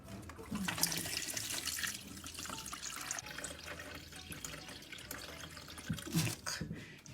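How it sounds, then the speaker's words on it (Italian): Water pouring from a tap into a cooking pot in a Sicilian kitchen, a continuous splashing gush with shifting tone, close and moderately loud, with brief clatter of the pot. "Mettiamo l'acqua."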